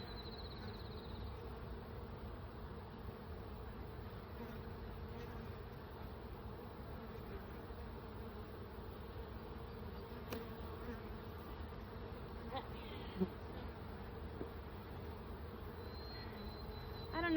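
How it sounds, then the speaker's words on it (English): Honey bees in an overfull hive box during a spring inspection, giving a steady low droning hum that stays faint and even throughout, with a few small knocks near the end. "this box is absolutely full of bees"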